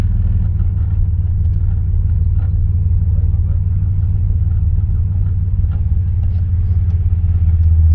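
An old Chevrolet Blazer is driven in four-wheel drive, its engine giving a steady, loud low rumble with drivetrain drone that holds constant throughout, close up and without any break.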